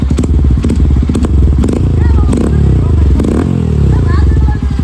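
Loud, close Hero Xtreme 125R motorcycle fitted with an Akrapovic full-system exhaust, a rough throbbing idle broken by repeated sharp revs and pops, with someone talking over it.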